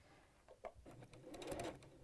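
Sewing machine stitching through quilt fabric during a quilting demonstration, a short rapid run of needle strokes that builds toward the end, close and moderately quiet with no talk.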